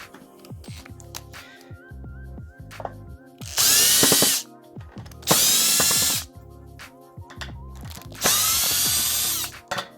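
A power drill runs in three loud bursts, spinning screws out of a metal outlet guard, with quieter clicks and handling noises between the whirring pulls.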